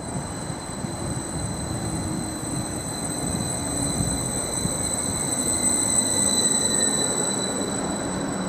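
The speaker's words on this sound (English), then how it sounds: "got class 745 FLIRT unit arriving to platform 3 en route to Norwich" A Class 745 FLIRT electric multiple unit arriving at a station platform, a loud continuous rumble of wheels on rail with high squealing brake and wheel tones and a steady whine above, close and alone.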